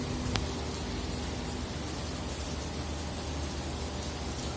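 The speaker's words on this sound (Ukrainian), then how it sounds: "дощ і все." Steady rain falls on an open deck of a ship moored in Scotland, a dense, even hiss close to the listener with a low rumble beneath and no voices.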